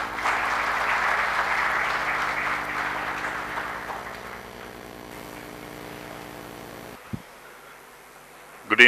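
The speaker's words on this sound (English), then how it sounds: "let's give them a big round of applause" Audience applause at an evening conference event, a steady dense clapping that fades gradually over several seconds, then near-silence with a couple of close bumps at the end.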